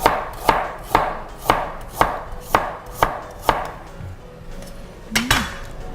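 A knife cuts ginger into thin strips on a board for chive and shrimp dumplings, making steady, evenly spaced thuds about twice a second, close and clear, with a slight pause before a final pair of cuts.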